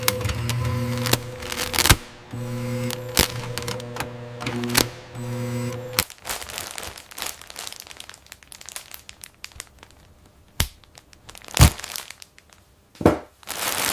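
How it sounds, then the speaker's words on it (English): A bread factory bagging machine handling 60 loaves per minute gives a rhythmic mechanical whir with steady hum, then clattering, rustling plastic and sharp clacks and puffs of the bag-slide release, close and busy without talk. "The machine bags 60 loaves per minute."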